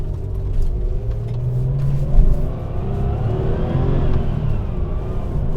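A 1997 Porsche 993 Turbo with a six-speed manual accelerating, its engine pulling in a steady deep rumble that rises slightly in pitch, heard from inside the car with no talking.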